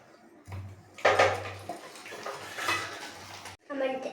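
A spoon mixing broken Oreo biscuits with milk in a bowl makes a run of close, wet clinks and scrapes against the dish, with a short pause near the end before the clatter picks up again.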